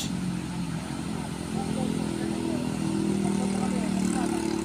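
A heavily loaded vehicle's engine roars and strains as it labors up a steep hill, a continuous mid-pitched drone that swells slightly as it pushes on, with faint voices in the background.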